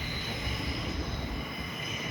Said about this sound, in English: There's an East Pakenham service arriving.